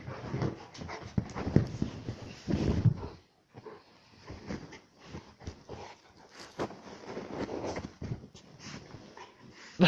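Dogs scuffle over a toy tiger, with panting, snuffling and bursts of growly play noise that carry on steadily, close and moderately loud, broken by a short pause near the middle.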